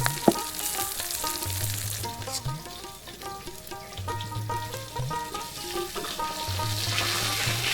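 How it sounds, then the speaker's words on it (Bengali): Onions and green chilies fry in hot oil, a steady close sizzle with stirring scrapes, while a low repeating hum pulses underneath and fainter clinks recur throughout. "এখন কিন্তু আমি এই যে পেঁয়াজ গুলো দিতেছি, পেঁয়াজ আর মরিচ, পেঁয়াজ আর কাঁচা মরিচ।"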